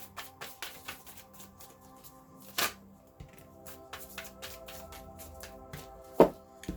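Tarot cards shuffled in the hands during a reading, a run of soft, quick riffling taps and flicks with one sharper snap near the end, close and quiet, with no voices.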